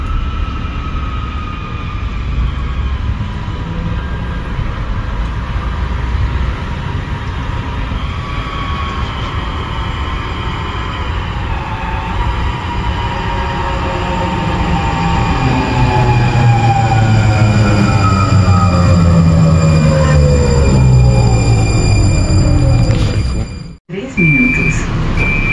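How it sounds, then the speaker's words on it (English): A Lynx Blue Line light rail train arrives at a station platform in Charlotte, NC, with a steady rumble that swells and wheel squeals that rise and fall as it draws near. An automated platform announcement plays over it before a sharp cutoff near the end. "train approaching. Please stand clear of the platform edge."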